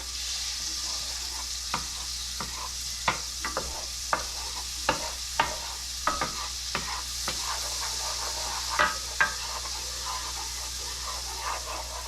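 Butter melting into meat drippings in a pan for gravy, a soft steady sizzle and hiss with scattered light clicks and taps, close and fairly quiet throughout.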